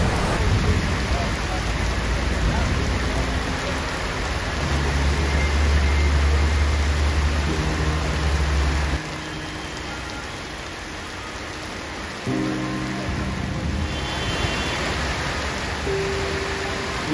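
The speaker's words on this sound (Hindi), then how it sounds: "शोरूम से निकलते ही हालत देखो, भयंकर बारिश" Heavy rain pours down steadily outside a motorcycle showroom, a dense, loud hiss of downpour with water pooling nearby, with faint low rumbles and no talk.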